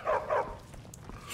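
A dog in Skyrim gives two quick barks close by, followed by quieter muffled rustling and a faint soft noise at the end.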